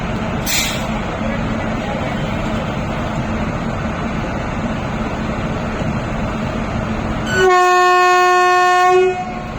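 The Coimbatore Express rumbles steadily past at a railway station, loud and close, with a brief hiss early on and then a long, loud horn blast near the end.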